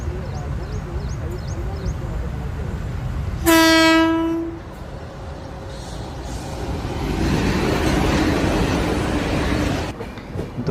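A passing train sounds its horn in one loud blast of several seconds, set against steady rumbling and wheel noise of rail cars, with voices faintly present.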